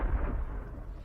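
Deep, rumbling boom of a tank gun firing in a video game, with a single heavy low-end blast decaying over about a second, no talk.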